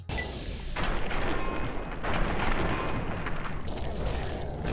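Gunshots in Fallout 3 against a behemoth, heavy booming blasts layered over a thick, continuous rumble of combat noise, loud and close throughout.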